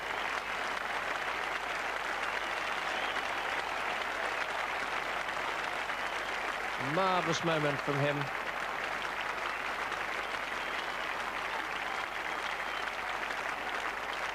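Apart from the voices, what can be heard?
applause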